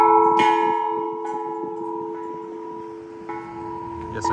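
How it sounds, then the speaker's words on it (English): A hand bell rung out on a downtown street in Frankfort, Kentucky gives several loud, bright strikes whose tones hang and slowly fade over faint street ambience. "Can I ring this bell?"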